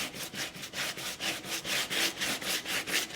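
Rhythmic back-and-forth rasping of sandpaper on a painted wooden board, about a dozen even strokes at a brisk, steady pace, close and alone.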